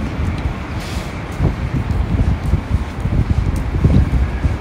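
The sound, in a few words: wind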